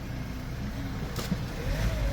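A light truck's engine idles steadily and quietly, a low continuous rumble with no other sounds standing out; a 2017 Hyundai Porter 2 Super Cab one-ton wing-body truck with automatic transmission.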